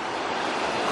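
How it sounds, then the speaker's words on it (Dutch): Ocean waves on a beach, a steady broadband roar of surf with some wind noise on the microphone, loud and continuous. "Oh, die golven zijn wel leuk nou."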